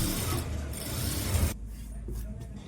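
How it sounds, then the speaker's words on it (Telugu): A sewing machine stitches a folded half-inch hem on a Punjabi top, a steady mechanical whir that runs loud for about a second and a half and then stops, leaving only a faint hum. "1/2 ఇంచ్ పెట్టుకొని ఇలా స్టిచ్ చేసుకోవాలి"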